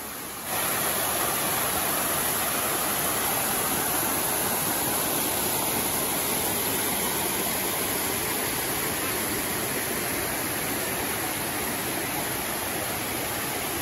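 Waterfall at the Cachoeira area in Penedo, a steady broadband rush of falling water heard close and loud throughout, without voices.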